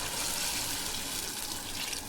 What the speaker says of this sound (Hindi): अब यहाँ पर मैं पानी शामिल कर दूंगी 4 गिलास के करीब